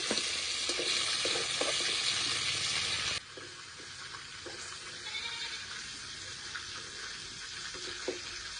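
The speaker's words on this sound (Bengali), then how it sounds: "হলুদ লবণটা দিয়ে চিকেনটা একটু ভাজা ভাজা করে নিতে হবে" Chicken pieces frying in oil with turmeric and salt, a steady close sizzle that is loud and dense at first, then drops to a softer crackle with occasional clicks of stirring.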